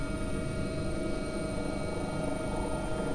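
AgustaWestland AW139 helicopter in the X-Plane 11 simulator, a steady continuous rotor and turbine drone with a faint high whine, even and unbroken, no voices over it.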